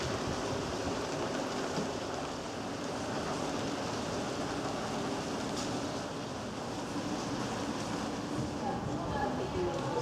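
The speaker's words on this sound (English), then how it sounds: "Outside it's still raining." Steady rain pours down continuously, a dense hiss of drops with no pauses, moderately loud and even throughout.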